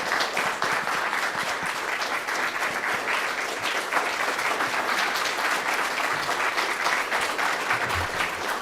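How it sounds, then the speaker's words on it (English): Audience at a New Hampshire gubernatorial GOP primary debate applauding the candidates, steady sustained clapping from a crowd, moderately distant and even throughout. "let's have a round of applause for both of our candidates, Senator Ayotte and Senator Morse"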